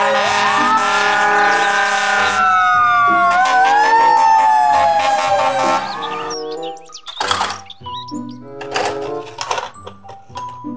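A toy fire truck blares a loud electronic siren that wails with rising and falling tones, then breaks into choppy beeps and clicking effects.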